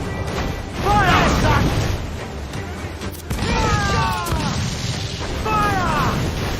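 Ship cannons fire during a naval battle in Assassin's Creed 4 Black Flag, with loud blasts and crashes under a continuous roar while crew members shout over the action.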